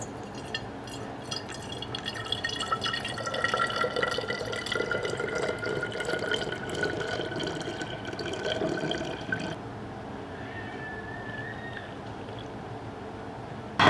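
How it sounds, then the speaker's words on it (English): Elderberry syrup trickles through a funnel into a 16-ounce bottle, a steady close liquid pour that thins out partway through, leaving a quieter drip and a faint squeak near the end. "And so I'm just going to funnel this over into here."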